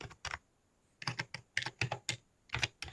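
Keystrokes on a computer keyboard tap out a club flyer's description in clustered bursts of quick clicks separated by short pauses, close and fairly quiet with no voices.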